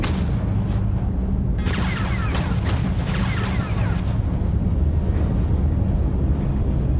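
Blaster gunfire rings out in the Star Wars Genesis video game, a burst of sharp repeated shots over a low rumbling background, fairly loud.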